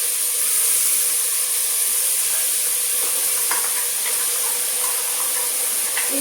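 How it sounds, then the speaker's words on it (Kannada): A ground masala paste hisses as it fries in a pan for jackfruit pulao, a steady loud sizzle and steam with a few soft stirring knocks near the end, and no voices. "ಮಿಕ್ಸಿ ಮಾಡಿ ಇಟ್ಕೊಂಡಿದ್ವಲ್ಲ ಈ ಪೇಸ್ಟನ್ನು ಸೇರಿಸ್ಕೊಳ್ಳೋಣ."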